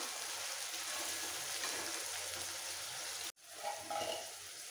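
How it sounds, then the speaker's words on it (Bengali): Spice paste frying for a tangra fish curry with a little water added, a soft steady hiss and bubbling sizzle that cuts out briefly and then returns with more watery spluttering, no talking. "অল্প জল দিচ্ছি মশলাটা কষানোর জন্য"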